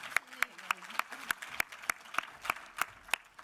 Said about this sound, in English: Round of applause to Miranda.